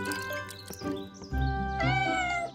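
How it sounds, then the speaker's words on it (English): A cartoon mother cat meows in drawn-out, calling cries for her missing kitten, loud and close, two or three rising and falling calls over a soft background bed of music. "It looks like one kitten is missing. His mommy is calling him."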